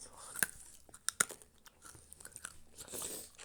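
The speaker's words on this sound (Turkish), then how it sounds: "Sesimi duyun be. Yemek yeme sesini." Crunchy bites and chewing sounds from Minecraft repeat in quick irregular bursts, close and fairly loud, with some talking mixed in.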